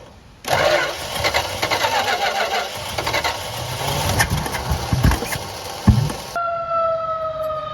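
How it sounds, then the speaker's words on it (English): A 1966 Plymouth Fury III with a 318 V8 cranks over loudly and continuously for about six seconds, then the starter cuts off, leaving quieter background noise. "Just crank it over a few more times."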